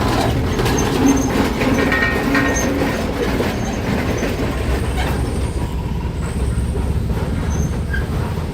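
A locomotive rolls along a 700 mm sugar mill railway track, giving a loud, continuous rumble with clattering wheel-on-rail noise and occasional faint high squeals.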